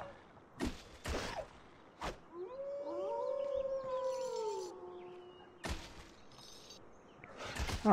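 Creatures in a video game howl in long, wavering, overlapping cries that rise and fall across several seconds, set between sharp thumps and bursts of game combat noise.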